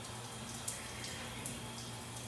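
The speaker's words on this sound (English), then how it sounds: "I've taken the liberty to turn the shower on, get a little bit of warmth in here, and it turned right on." A shower running in a truck stop bathroom at a Love's in Midland, Texas, a steady hissing spray heard from a short distance with a couple of faint splashes.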